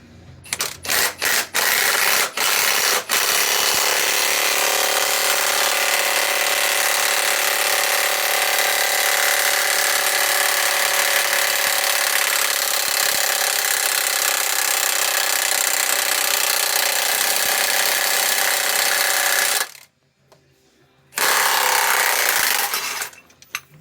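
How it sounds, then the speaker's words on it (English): An impact wrench works on the suspension of a 1995 Ford F250 during a 3-inch lift, with a few short bursts and then a long, loud, steady hammering run, a brief pause and a final burst, heard up close. "we'll put the impact wrench on the other end of it and see what we get"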